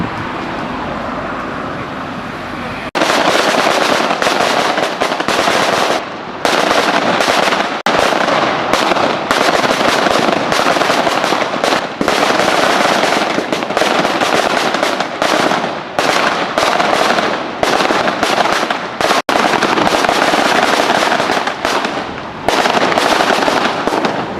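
Rapid, loud bursts of firecrackers set off by political party supporters at Mannar Bazaar crackle and bang almost nonstop for over twenty seconds after a brief quieter start outdoors.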